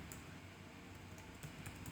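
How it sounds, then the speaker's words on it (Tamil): Typing on a computer keyboard comes through as faint, sparse keystroke clicks over a low steady room hum, with no talking. "ஸ்ட்ரீம்லைட் பார்ட் அப்படின்னு நான் டைப் பண்ணிக்கிறேன்"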